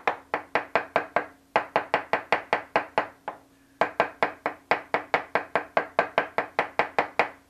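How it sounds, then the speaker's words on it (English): Knife chopping parsley on a cutting board in a home kitchen: a fast, steady run of crisp, close knocks, with one brief pause partway through before the rhythm resumes. "So we'll chop up the parsley."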